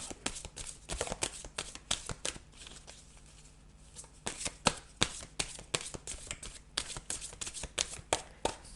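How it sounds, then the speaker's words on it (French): Tarot cards shuffled by hand in quick rustling, flapping bursts, a brief quieter pause partway through, then more riffling and the soft snap of a card being drawn, close and intimate. "je vais tirer une dernière carte"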